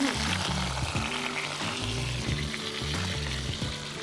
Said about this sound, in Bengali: তেজপাতা, ছোট এলাচ, লবঙ্গ, দারচিনি আর সর্ষে, সাদা সর্ষের ফোড়ন